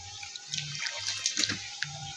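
Tap water runs and splashes into a sink for washing up, a soft continuous trickle with small irregular splashes and drips, close but fairly quiet.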